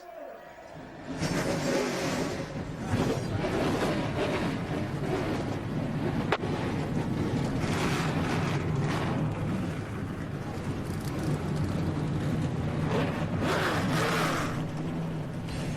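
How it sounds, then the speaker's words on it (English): Three dozen NASCAR race trucks fire up together at the start of the 225-mile American Ethanol 225 at Chicago, a broad sustained engine roar with wind buffeting and faint crowd or commentary underneath. "36 trucks have just come to life."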